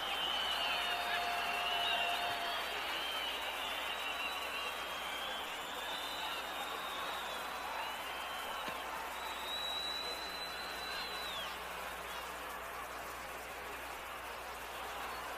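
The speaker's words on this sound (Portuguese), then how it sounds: "Agora a torcida do Náutico está em festa, hein?" Náutico supporters celebrate in a football stadium during a 1982 match against Flamengo. Broad crowd noise with applause and whistles fills the air continuously and stays fairly even throughout.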